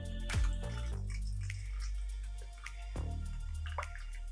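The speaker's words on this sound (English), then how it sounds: "finally just top up with the soda water." Soda water pours and fizzes into a glass with ice for a Campari cocktail, a soft bubbling splash that swells and settles over a few seconds.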